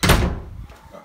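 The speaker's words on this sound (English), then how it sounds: "Yeah, just slam that door real hard." Door in an Airbnb vacation home near Cedar Point slammed hard: one loud, close thud that rings briefly and fades, with faint knocks trailing after.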